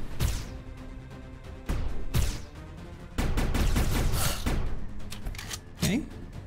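Gunfire in the platformer game Rogue Invader: several sharp bursts of shots with crashing impacts, loud and irregular, separated by short quieter gaps.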